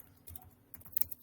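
Quiet typing on a computer keyboard during a tutorial on building a blockchain app, with soft, irregular keystrokes in small bursts and a few sharper taps near the end.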